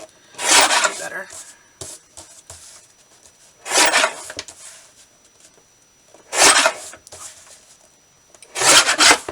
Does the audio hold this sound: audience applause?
no